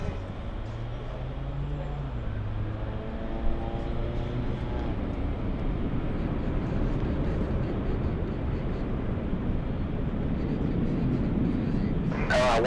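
A Delta jet takes off from runway 24 left at LAX, a steady loud jet roar and rumble building and holding throughout, with a falling engine whine early on and a brief click near the end.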